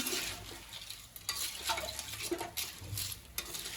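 A spoon scrapes and stirs through a thick crab gravy with water in a pan, with soft sizzling and wet clatter in irregular bursts, close by and moderately quiet.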